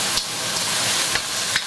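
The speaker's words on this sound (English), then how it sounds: "to the oil we're gonna add the garlic and the onion mix" Chopped garlic and onion sizzle steadily in hot oil in a pan, a loud continuous hiss up close with a few faint stirring scrapes.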